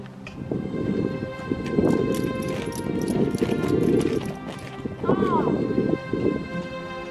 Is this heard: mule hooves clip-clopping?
yes